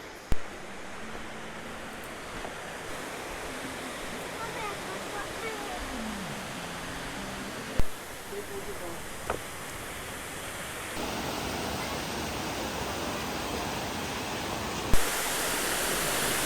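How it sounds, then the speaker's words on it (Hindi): Bhagsunag waterfall in McLeodganj pours with a steady, close, broadband roar of rushing water that never lets up, broken only by a few brief knocks. "हम लोग वाटरफॉल के बिल्कुल करीब पहुंच गए हैं। सामने वाटरफॉल है।"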